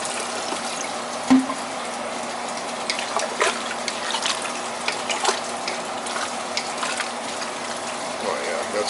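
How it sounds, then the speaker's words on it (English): Water runs from a tap into a soup pot of hearty winter soup ingredients, a continuous splashing pour with occasional clunks and bumps, heard up close. "I just want to cover it with water."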